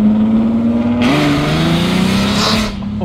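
V12 Mercedes accelerating hard, a loud close engine note climbing steadily in pitch with a sharp surge partway through, no talk over it.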